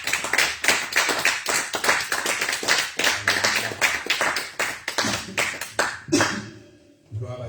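A church congregation clapping in acclaim at a New Year's Eve crossover service, with loud, dense, rhythmic handclaps filling the room, close and continuous before easing off near the end.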